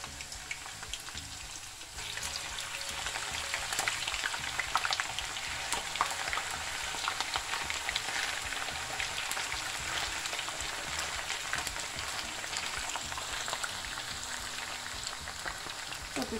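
Potato pieces dropped into hot oil sizzle and crackle steadily, a dense, even hiss with tiny pops that continues unbroken without talk.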